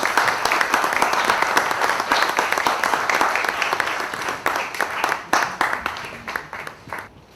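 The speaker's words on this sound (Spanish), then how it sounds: "lo recibimos con un aplauso" A conference audience at the Ateneo in Cuba applauds to welcome a speaker, producing dense, continuous clapping from a crowded room that thins into more separate claps and fades toward the end.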